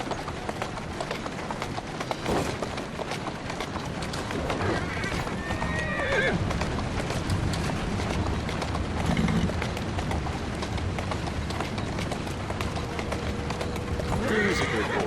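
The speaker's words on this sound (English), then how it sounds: "Who's a good horse? You are." A horse clip-clops along with repeated hoof strikes and gives a couple of neighs over a constant outdoor rumble, while a person talks nearby.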